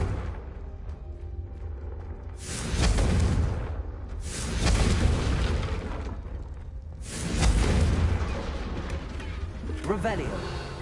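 Confringo fire-blast spell explosions in Hogwarts Legacy, three loud booming bursts spaced a couple of seconds apart over ambient game sound, with a voice shouting spell names.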